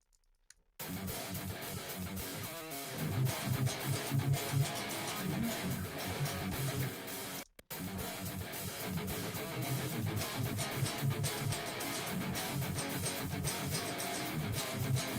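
Modded Stratocaster electric guitars play doubled, upside-down power chords in a loud, dense riff. They start after a brief silence, stop for a short break near the middle, then continue steadily.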